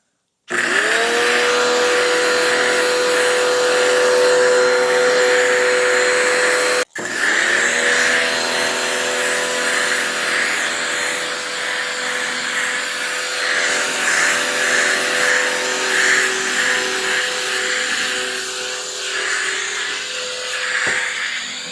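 A PSI5000 pressure washer with an adjustable pressure gun runs loud and close as it sprays foam from a soap cannon, a steady high-pitched motor whine with a brief cutoff before resuming continuously.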